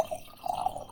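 Tap water trickles and drips into a glass snow globe jar, giving a faint, uneven pouring with light bubbly splashes that rise in the second half.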